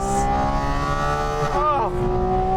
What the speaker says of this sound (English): if we can't make loud exhausts, we're just going to make intakes like this.